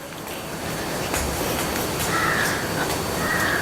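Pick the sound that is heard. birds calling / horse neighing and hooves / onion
birds calling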